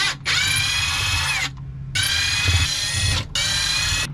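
A powered screwdriver backs screws out of a Hymer Aktiv 2.0 campervan wall in three close, high whirring bursts with short gaps between them.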